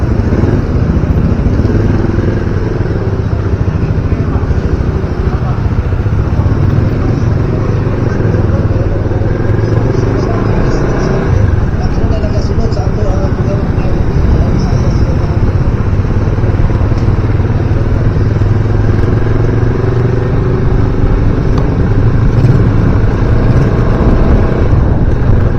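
A motorcycle being ridden, with a continuous engine drone and wind rush that stay loud and steady throughout.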